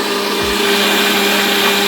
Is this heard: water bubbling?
no